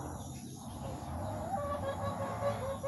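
A chicken clucks close by in a quiet rural yard, soft short calls over a low background hum, with no speech.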